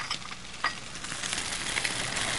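Chicken searing in a hot pan at 400 degrees, a steady broadband sizzle with a few brief spits and crackles, close and fairly quiet, no voices.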